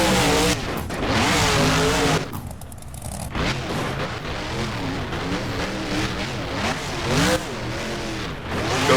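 Monster truck engine revving hard in BeamNG during a freestyle run, a loud continuous roar with rising and falling pitch sweeps and a brief dip midway, joined by clattering thuds.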